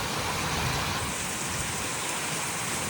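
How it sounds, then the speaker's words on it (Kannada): Heavy rain starts again over a village, an unbroken broad rushing hiss at a constant level, with no speech. "ಇವಾಗ ಮತ್ತೆ ಸ್ಟಾರ್ಟ್ ಆಗಿಬಿಟ್ಟದ ಮಳೆ ನೋಡ್ರಿ"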